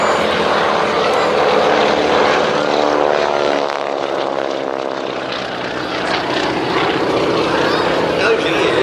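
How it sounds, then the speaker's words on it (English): A Boeing Stearman biplane with an uprated 450 hp Pratt & Whitney radial engine drones loudly at a wingwalking airshow at Little Gransden, its pitch shifting as it passes, with a voice talking over it. "using the uprated 450 horsepower Pratt & Whitney engines, Stearmans that are the mainstays of the team today"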